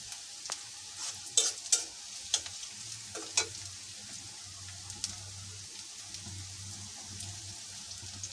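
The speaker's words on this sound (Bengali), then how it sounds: "তেলটা ভাজা ভাজা হয়ে আস্ত রসুন কয়েকটা দিচ্ছি" Whole garlic cloves fry in hot oil, a faint, low sizzle dotted with clustered clinks and taps of stirring.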